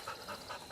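Hunting dogs used for coyote hunting pant in quick, steady rhythmic breaths, close and moderately faint, with no voices.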